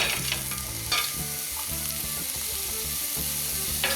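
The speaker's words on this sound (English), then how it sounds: "just put a bit of vegetable oil into a pan, then into there with your spring onions and pepper if you're using it" Spring onions and pepper fry in vegetable oil in a pan with a lively, close sizzle and bursts of stirring, while soft background music plays underneath.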